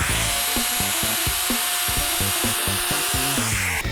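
A wood router cuts a bevel along the edge of a board, a steady loud whine with a rough grinding texture running unbroken throughout, close and alone.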